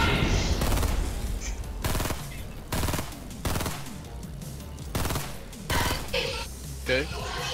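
Fortnite gunfire in a battle royale match: repeated bursts of rapid automatic shots at regular intervals, loud and close, with a steady background of game ambience.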